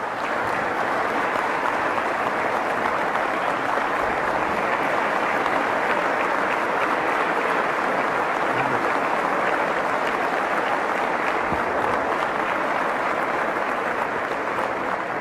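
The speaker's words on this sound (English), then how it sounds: "if y'all do all this clapping, don't blame it on me how long we're going to be here." Sustained, loud audience applause during a governor's State of the State address, a dense unbroken wash of clapping from a large crowd filling the whole stretch without pause.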